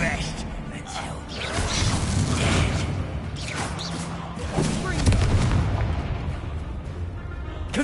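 Fiery Confringo spell explosions in Hogwarts Legacy battle, a dense run of booms and crackling blasts with rushing whooshes, loud and continuous, while a voice talks over the fighting.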